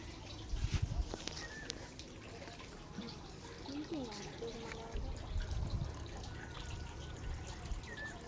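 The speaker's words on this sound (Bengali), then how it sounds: "এখানে জল আসছে টাইম কলের" Water running from a timed public tap beside a village pond, a soft continuous trickle with faint splashes and background voices.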